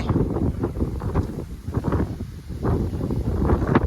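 Strong evening wind gusts outdoors among trees, buffeting the microphone in uneven low rumbling waves with no one talking.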